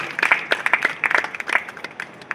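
Scattered, uneven hand clapping from an audience at a college annual day celebration honours the principal, a modest patter of claps rather than a full roar.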